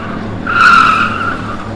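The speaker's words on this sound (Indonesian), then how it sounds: "sedan itu berhenti mendadak di depan Tatang." A loud, close tire screech as a car skids to a sudden stop, rising sharply then fading over about a second.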